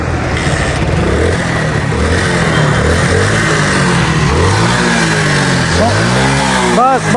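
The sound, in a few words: motorcycle engine being started and revved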